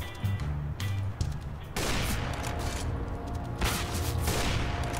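Gunfire in the video game CS:GO, with bursts of rapid shots and sharp reports coming in clusters over a few seconds, fairly loud and close, with no talking over them.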